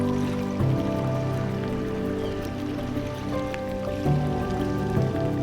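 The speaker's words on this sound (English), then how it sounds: "You can hear all the ice popping" Ice from melting icebergs pops and crackles in a steady stream of small clicks and drips that sounds almost like a flowing river, with a low wash of water underneath and no voices.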